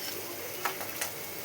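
Cucumber pieces dropped into a frying pan with tomato and salt, giving a steady close hiss of sizzling with a couple of faint clicks from stirring.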